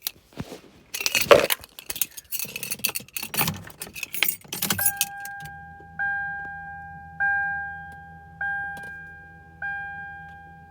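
Keys jangle and clink against the ignition of a third-generation Toyota 4Runner as a new key is inserted and turned, followed by four evenly spaced electronic chimes repeating close by.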